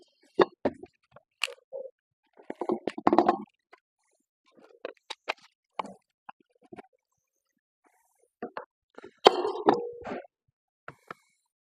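Softened butter and cream cheese are stirred together in a mixing bowl, giving sporadic soft, wet squelches and plops in short bursts separated by pauses.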